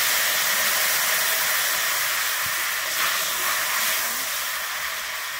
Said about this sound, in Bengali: আমি হলুদ গোলা জলটা দিয়ে দিচ্ছি